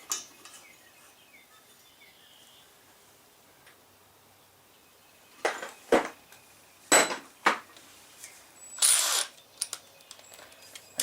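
Bolt being tightened on a John Deere STX30 riding mower, with a cluster of sharp metallic clicks and ratchet-like knocks near the end after a quiet stretch.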